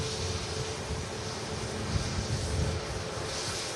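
A 24-year-old Atlas Air Boeing 747 rolls along an airport taxiway, its engines a steady low rumble and broad roar at a distance, mixed with wind buffeting the microphone.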